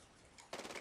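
A short burst of rapid gunfire in the video game Medal of Honor: Warfighter fires after a brief quiet moment, with loud, close, repeated shots.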